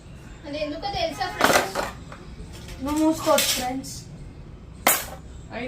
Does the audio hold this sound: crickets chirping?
no